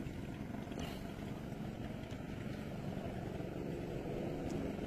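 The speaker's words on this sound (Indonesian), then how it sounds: "Aduh, ada perahu lewat lagi." A motorboat passes by on the water, a steady broadband engine and hull drone that holds at moderate level for the whole stretch, with no voices over it.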